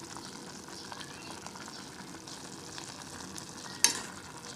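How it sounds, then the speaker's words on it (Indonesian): Yellow spice paste being stirred as it fries in a pan, a soft steady sizzle with faint scraping and one sharp utensil clink near the end. "Kita aduk sebentar biar bumbunya merata ya."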